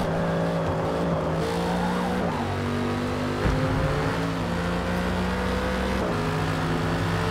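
Race cars in the Forza racing game, a loud continuous engine drone whose pitch drops as they brake into a corner, then climbs again, with faint tire squeal and no talk over it.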